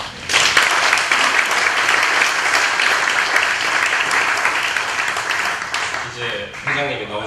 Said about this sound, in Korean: 한 번 더 박수 보내주십시오.